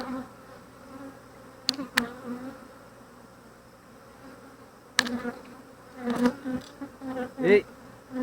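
Honeybees buzz steadily through an open Flow Hive brood chamber during an inspection, a close, continuous hum with a few sharp knocks and bursts of louder buzzing as the frames are handled.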